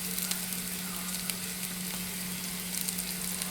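Grated ginger sizzling in hot oil, a steady dense frying hiss with small crackles and pops, close and even throughout with no voices.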